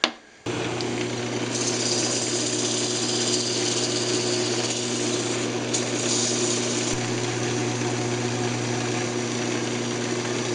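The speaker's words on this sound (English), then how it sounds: "we'll just go ahead and sand the front of it." Wooden speaker box face being sanded on a woodturning lathe: a steady motor hum with continuous abrasive hiss runs throughout, with slight swells in the scratchy texture, no talking.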